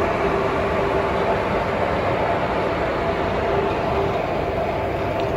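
A train locomotive starting to move gives a steady, loud rumble and hiss of rolling noise, continuous and unchanging throughout, heard from inside the cab.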